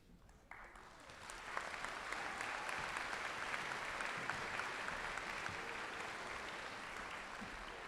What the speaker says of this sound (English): let's give our graduates one final round of applause